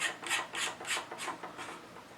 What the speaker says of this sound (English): And then you just take your castle nut, thread that on home.